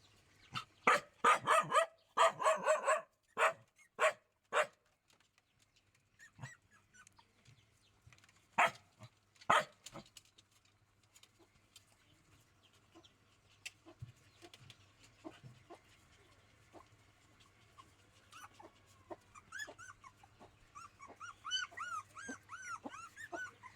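A dog barks in a quick burst of several loud, close barks, then gives a few scattered single barks, followed by softer yips and whines over a low hum.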